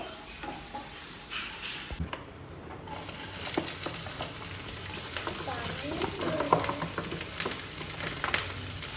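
Crushed garlic and whole spices sizzle in hot oil for a chicken stew, a loud continuous frying hiss broken by scraping spoon strokes as they are stirred, with a brief quieter moment early on.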